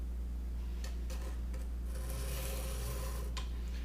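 A knife blade is drawn along a fixed angle sharpener stone on its bevel, giving faint, soft rasping strokes over a steady low hum, with a few brief scraping bursts.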